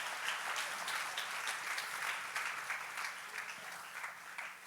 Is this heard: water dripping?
no